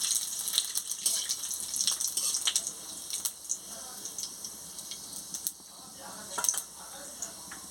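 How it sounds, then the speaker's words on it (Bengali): Five-spice tempering with chopped chilli in a little hot oil in a wok, crackling and spitting with sharp bright pops over a faint steady hiss. "5 ফোড়ন দিয়ে দিচ্ছি।"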